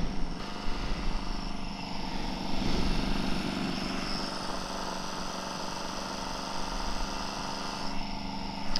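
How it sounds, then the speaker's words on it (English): A Honda CB750F motorcycle on a cafe racer project idles too high, giving a steady, close engine drone that holds unbroken and fairly loud throughout. "The idle is way too high is what it is."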